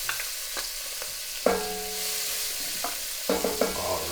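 Chopped onion hitting hot oil in a pan for a baked penne and meatball casserole, several sharp sizzling bursts with tonal spoon clinks and stirring, close and fairly loud, no talking.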